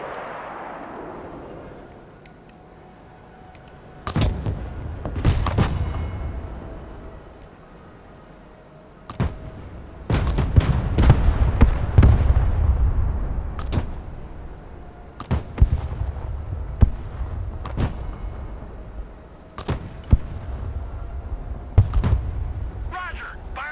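Artillery fire support in the war game Broken Arrow, with repeated sharp booms and low rumbling impacts arriving in irregular clusters over steady background noise, while voices speak in between.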